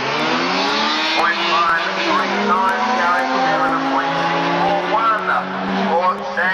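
A Mazda R100 rotary drag car at a raceway strip launching hard, its high engine note rising and sweeping in pitch over a few seconds, heard loud beneath continuous excited commentary.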